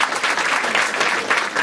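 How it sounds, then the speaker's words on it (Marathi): An audience at a Marathi stand-up comedy crowd-work show claps in a short, dense burst of applause, loud and close throughout. "चला एकदा टाळ्या वाजायच्यासाठी"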